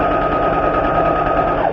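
A sewing machine stitches a lined zipper pouch with a loud, continuous, close mechanical whir that holds steady throughout without pausing.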